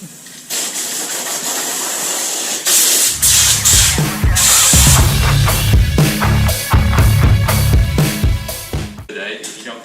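Eastwood rust converter sprays onto a truck frame in bursts of loud hissing, with repeated short on-off pulses and a low rumble underneath, several distinct sprays in quick succession.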